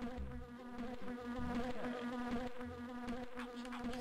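Bees buzz continuously in The Grinch video game, a close, steady insect drone with wavering pitch, quiet and alone throughout.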